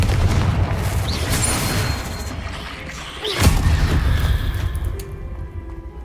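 Bombarda and Confringo spells explode in a Hogwarts Legacy spider fight, with booming blasts and crashing debris over a dense rumble, one sharp explosion standing out midway.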